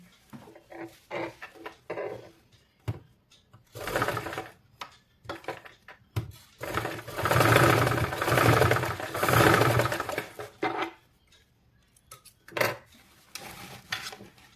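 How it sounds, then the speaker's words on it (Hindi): A sewing machine stitches the side seam of ladies' pants in several bursts, some short and some sustained, starting and stopping between them, close and without talk. "अब इस साइड हमें स्टिच कर लेना है।"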